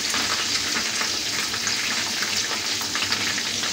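Fish frying in hot oil for a crispy fried fish dish, a steady dense sizzle with crackling spatter that holds loud and even throughout, no voices over it.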